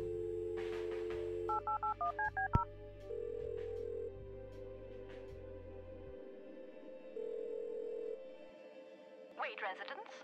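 Touch-tone keypad beeps as a phone number is dialed in the point-and-click game Kathy Rain, a quick run of distinct tones over a low steady background hum, followed by a ringing line tone.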